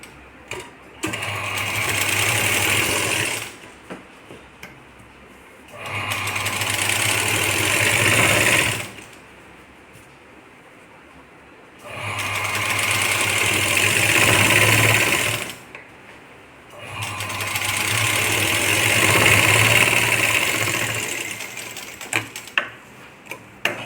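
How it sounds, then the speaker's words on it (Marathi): Sewing machine stitching a sari blouse with a Paithani patch neckline, running in four steady bursts of several seconds each, separated by short pauses, fairly close and loud with no talk. "टीप मारायची"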